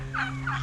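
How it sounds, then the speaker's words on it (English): Turkeys gobble in two quick, close warbling bursts outdoors, loud and clear with no talking. "You see Stormy out there running with all her turkey babies?"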